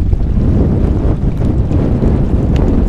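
Strong wind buffets the microphone on a rocky Mediterranean shore, a constant loud rumbling roar with no pauses and no voices.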